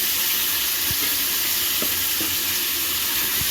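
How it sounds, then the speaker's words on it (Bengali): Chicken fried in a kadai for home-style biryani gives a loud, continuous sizzle, broken by a few brief knocks and scrapes as the pieces are stirred, and no one speaks over it. "এবারে মাংসটা দিয়ে দেবো, দিয়ে আর কিছু এবারে নাড়তে থাকবো"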